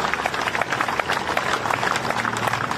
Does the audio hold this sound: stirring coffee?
no